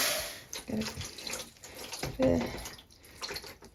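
Water is poured from a tap into a container for low-immersion fibre reactive dyeing, giving two brief splashing bursts with quiet gaps between them, close by and moderately loud, with a person talking over it.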